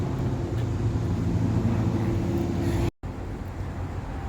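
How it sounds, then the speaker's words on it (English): Power windows and the sunroof of a 2022 Acura MDX Type S open together after a double press of the remote unlock, a steady close motor hum that briefly cuts out and then resumes. "if I double tap the unlock button, all the windows open,"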